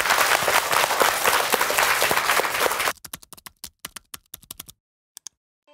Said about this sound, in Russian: Ну, я считаю, аплодисмент.